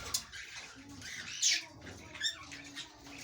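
A colony of mixed common white, grey and cherry breeder pigeons gives faint, scattered coos and soft squawks, quiet and intermittent against a low background.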